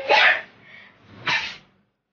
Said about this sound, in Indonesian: bersin gue gak bisa berhenti pas ngumpul sama mereka bertiga